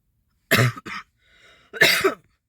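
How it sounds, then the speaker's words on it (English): Two harsh coughs close together, a short pause with faint background noise, then one more hard cough, all near and fairly loud. "Oh, Jesus, this cough."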